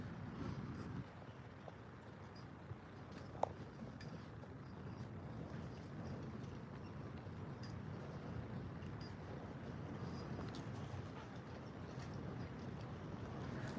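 Strong wind blows outside near a horse stable, a steady low rumbling roar with buffeting gusts that hold throughout with no talk.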